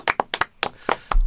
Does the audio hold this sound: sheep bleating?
no